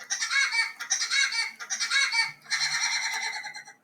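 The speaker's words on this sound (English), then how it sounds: "that was Woody the Woodpecker laughing at you guys" A cartoon woodpecker laugh effect in the style of Woody Woodpecker, rapid bursts of shrill cackling in several repeated phrases, loud and close with no talk.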